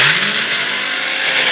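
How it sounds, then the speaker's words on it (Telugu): A kitchen mixer grinder blends gongura leaves in its jar, giving a loud, steady whirring roar that holds without a break. "ఇలా మిక్సీ జార్లోకి వేసుకొని మిక్సీ పట్టుకోవాలి."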